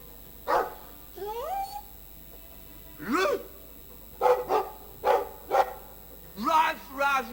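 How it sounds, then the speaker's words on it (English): A dog in the Dragon Age II video game barks repeatedly in short, clipped bursts, close and moderately loud, mixed with whining yelps and no talk. "I like the doggy."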